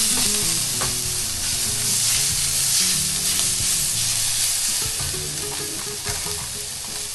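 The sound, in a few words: onions frying and being stirred in oil in pan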